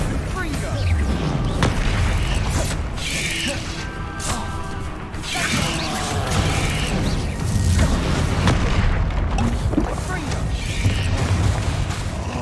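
Bombarda spell blasts in Hogwarts Legacy go off in a dense barrage of booms, crashes and debris, loud and continuous with heavy impacts recurring throughout and no quiet gaps.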